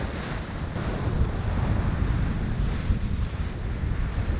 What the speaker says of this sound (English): This is Caribbean sailing. Beam reach, island to island, 20 knots of wind.